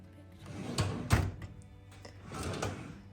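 A drawer in a bright red cabinet used for storing paints and magnets slides and bumps shut, giving a few close wooden thunks and knocks over about three seconds.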